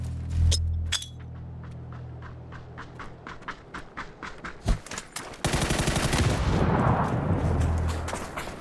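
Rapid bursts of PUBG gunfire, crisp repeated shots in quick runs, building into a dense, continuous volley toward the end.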